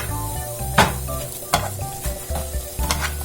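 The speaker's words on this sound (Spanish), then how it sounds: "En un sartén ponemos un chorrito de aceite y vamos a agregar nuestra cebolla." Chopped onion fries in a splash of oil in a pan, with a steady close sizzle broken by several sharp scrapes and clacks of stirring against the pan. Nobody speaks.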